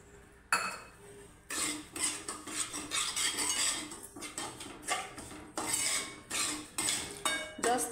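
Semolina roasting in ghee in a pan, with a metal spoon scraping and clinking against the pan in repeated bursts of stirring, close and fairly loud, with short pauses between strokes.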